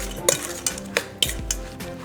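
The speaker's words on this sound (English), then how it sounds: "All right, we're going to stir that around." A spoon stirring an apple pie filling of soft, limp apples in a pan, with a series of sharp metallic clinks and scrapes against the pan at an irregular rhythm, close and clear.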